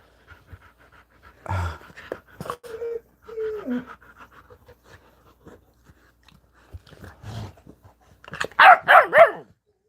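A dog makes a few vocal sounds, soft grumbles and panting, then a burst of several close, loud barks near the end.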